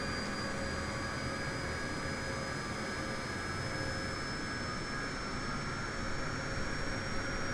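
Jet engine drone from a KC-135 tanker fitted with 777 engine sounds in a flight video game, a steady loud roar with a high tonal whine held throughout, no speech.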